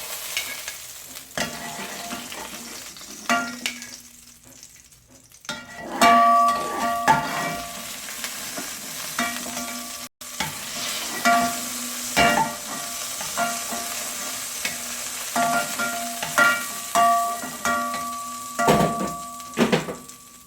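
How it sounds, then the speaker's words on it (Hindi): Dry fruits fry in a pan for bread halwa, a steady sizzle broken by repeated scraping and clinking of a spoon stirring against the metal, close and continuous. "ये हमारे ड्राई फ्रूट्स जो हैं ये फ्राई हो चुके हैं अच्छी तरह से।"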